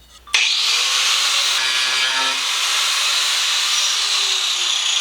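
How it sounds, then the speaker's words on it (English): An angle grinder with a tile-cutting bit whines loudly and continuously as it cuts across a surfboard tail along a taped line, starting abruptly after a moment of quiet and holding a harsh, hissing grind to the end. "Now I'm going to grab my grinder and get ready to cut."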